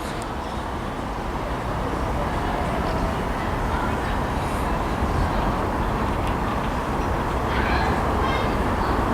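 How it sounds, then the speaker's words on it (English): A ScotRail Class 158 diesel unit on the Glasgow Queen Street to Alloa service pulls into Stirling station, a continuous loud rumble and rail roar filling the platform, with voices faintly underneath. "approaching now is 1101 ScotRail service to Alloa from Glasgow Queen Street,"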